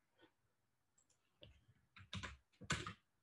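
Typing on a computer keyboard during an online meetup presentation, a few scattered soft key clicks building into short bursts of quicker taps, quiet and close, with no voices.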